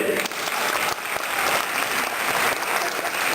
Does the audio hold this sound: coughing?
no